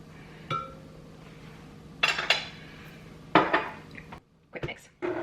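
Vanilla is mixed into a cookie dough of flour, salt and chopped pecans in a bowl, giving sparse clinks and knocks of a utensil against the bowl, a few sharp bursts separated by quiet pauses.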